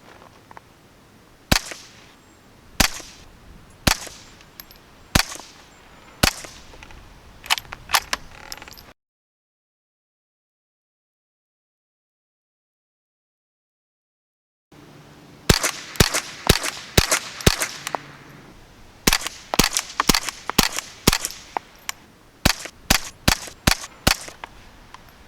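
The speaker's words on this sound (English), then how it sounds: "we're gonna shoot now the CCI Quiet Regulars here." Two bursts of sharp, suppressed .22 shots from a manually cycled Ruger 10/22 rifle firing CCI Quiet standard rounds, each a crisp crack spaced a second or two apart, with a silent gap between the strings and the second string faster and louder.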